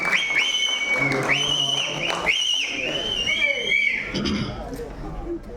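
Loud crowd noise at a PMK political function, shrill whistles rising and falling over steady clapping and cheering, whistles fading out near the end.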